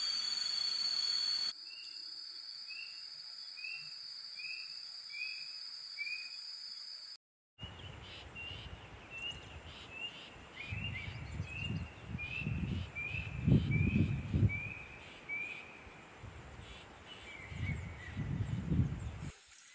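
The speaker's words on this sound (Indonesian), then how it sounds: "di sini banyak banget burung" Birds call with repeated short chirping notes, moderately distant, over a steady outdoor hiss and occasional low rustling movement, in an Indonesian forest.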